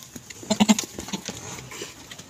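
A Beetal goat bleats in a few short, fairly close calls early on, followed by quieter shuffling sounds.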